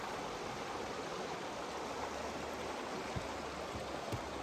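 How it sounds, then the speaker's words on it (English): Big river in the high country rushing in a steady, full broadband wash, heard from close by in midstream, no voices. "So here we are in the middle of a big river."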